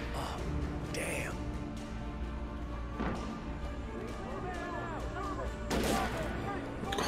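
Enemies fire guns in the video game Alan Wake Remastered. A few sharp, scattered shots crack out over a low, steady game ambience.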